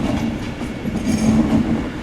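A train pulls into a platform at Manchester Piccadilly on the West Coast Main Line, a steady loud rumble of wheels and carriages rolling close by with faint clicking, no talk.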